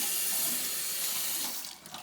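Hot water running from a tap into a sink: a continuous close hiss and splash that thins out and becomes uneven near the end.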